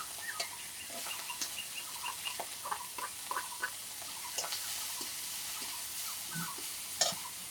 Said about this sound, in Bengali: এবার পেঁয়াজ রসুন কুচি দিয়ে দেবো,